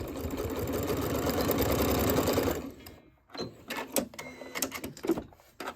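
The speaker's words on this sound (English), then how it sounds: "we want to do that back stitch again" A sewing machine runs fast and steady through a back stitch on a rail fence quilt block seam, then stops, followed by a few close clicks and handling noises.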